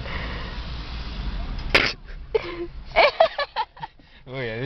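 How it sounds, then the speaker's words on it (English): A person sneezes once in a loud, sharp burst after a stretch of quiet breathy sounds, followed by a few short huffs and sniffs, and speech comes in at the end. "Oh yeah, this sneeze, man."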